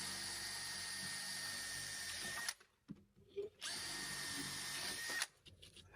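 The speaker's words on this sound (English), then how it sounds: "Trying to just drill partially through." A 3/8 inch spade bit bores partway into a door, one side of a job fitting a rim panic device. The bit whines loud and steady in two long runs, each ending with a short pause and faint handling noises.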